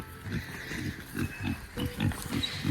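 Pigs grunt in a rhythmic series of short, low snorts close by, repeating roughly every quarter second amid faint background noise.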